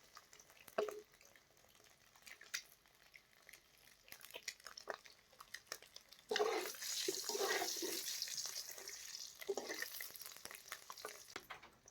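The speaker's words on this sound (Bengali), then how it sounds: "ডিমটা লাল লাল করে ভেজে নেবেন" Egg frying in oil in a pan, with quiet crackles and scattered clicks that swell into a steady, louder sizzle about halfway through, then continue with stirring scrapes; no talking.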